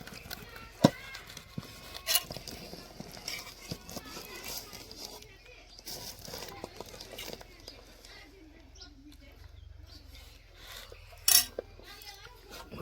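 Potato bhungla mixture for a Kathiyawadi-style snack being stirred in a pan, with scattered utensil clinks and scrapes against the metal and a few sharper knocks, while someone talks throughout.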